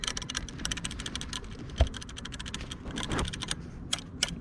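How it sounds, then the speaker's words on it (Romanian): A loose part on the front of a VSETT 10+ electric scooter during a test ride gives a steady run of light, quick knocking clicks and rattles, fairly faint against road and wind noise, with no talking. "Deci se aude un constant poc în față"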